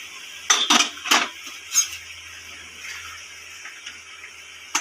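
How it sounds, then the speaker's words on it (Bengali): A metal lid is lifted off a cooking pot of potato curry, giving a few sharp clinks and clattering knocks in quick succession, close and fairly loud, followed by quieter faint scrapes and a final tap. "ঢাকাটা তুলে নেব।"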